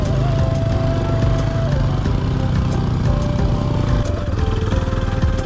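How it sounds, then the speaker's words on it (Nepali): An overheated motorcycle on a dusty highway ride between Kathmandu and Sunkhani drones loudly and steadily up close, its engine pitch stepping up and down as it pulls along. "बाइक हिट भएर पुरै कराइसक्यो है फान्दैन"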